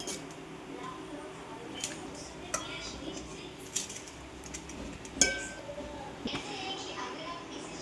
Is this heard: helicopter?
no